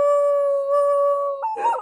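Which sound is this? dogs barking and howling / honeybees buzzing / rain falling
dogs barking and howling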